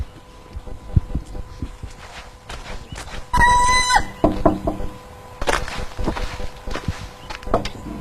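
A few sharp knocks on a door, with outdoor background noise, birds and scattered footsteps around.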